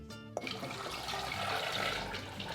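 Water runs steadily and splashes into a pot of tomatillos, a continuous rushing pour close by, preceded by a brief clink at the start.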